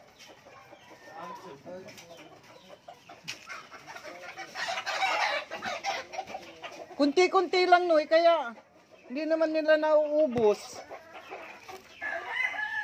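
Chickens cluck and a rooster crows close by as they are fed in a farmyard, with someone talking over the birds throughout.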